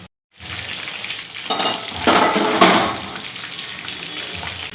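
Chicken leg pieces frying in a pan, a steady sizzle with louder bursts of spitting oil as pieces are turned or moved, close and without talk.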